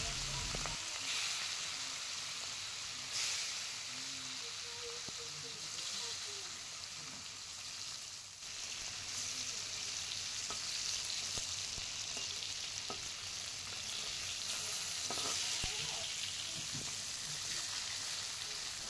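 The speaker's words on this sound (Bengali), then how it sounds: "মাছগুলো হালকা ভাজা ভাজা হয়েছে" Hilsa fish pieces frying in hot oil with nigella seeds and turmeric for shorshe ilish, a close, continuous crackling sizzle that holds steady throughout.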